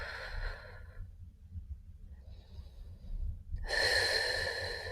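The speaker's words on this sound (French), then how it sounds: "On inspire et on expire." Slow, audible breath in and out during a gentle relaxation yoga stretch, a soft close inhale then a pause and a longer exhale, with no talking.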